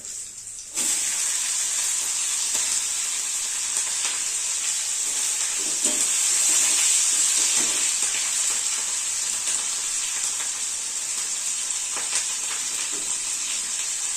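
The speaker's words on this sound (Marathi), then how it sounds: "आता आपण हिरवी मिरची टाकून घेऊया" Green chilies sizzle and crackle as they fry in hot oil after mustard seeds, a loud steady hiss starting abruptly and holding for the rest of the stretch with small pops, no voices.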